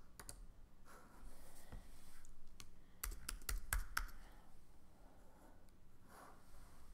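Computer keyboard typing while adding lettering in Cricut Design Space: near, soft clicks in uneven bursts with a cluster of sharper keystrokes in the middle, no talking.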